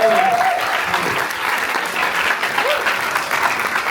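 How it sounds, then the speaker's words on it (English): Steady, dense applause from an audience at the Cannes Film Festival fills the space, with a few voices and a brief whistle near the start. "Allez-y, on l'applaudit."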